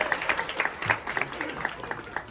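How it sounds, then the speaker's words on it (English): A small comedy-club audience at Renew 23 West gives a round of applause. The clapping is faint and scattered and carries on for a couple of seconds. "Give Leah a round of applause"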